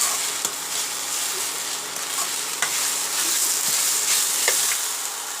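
Taro stem curry with fish head sizzling in a pan while a spoon stirs it, making a steady frying hiss broken by a few scraping clicks of the spoon.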